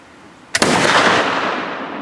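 A single loud flintlock muzzleloader rifle shot fired outdoors during a Pennsylvania deer hunt, a sharp crack followed by a long, broad roaring boom that stays heavy as it slowly fades.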